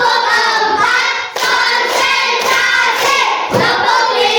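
Fourth-grade Indonesian classroom of pupils clapping together in rhythm, a dense, loud patter of hands with short breaks between rounds, no speech over it.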